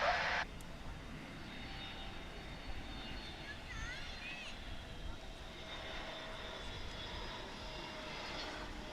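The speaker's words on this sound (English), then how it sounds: "here comes the Lemon Shark livery of Frontier Airlines coming in from Phoenix" A Frontier Airlines jet in Lemon Shark livery arrives from Phoenix to land at DFW International Airport, its engine roar a steady distant rumble throughout, with a brief loud burst at the very start.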